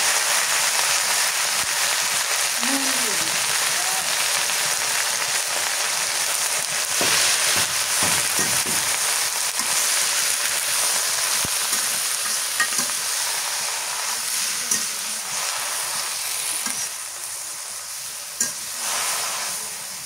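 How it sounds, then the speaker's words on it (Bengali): Leafy greens frying in a pan, a dense continuous sizzle and crackle throughout, loud and close, with occasional stirring scrapes and clicks. "শাক ভাজি হয়ে গেল"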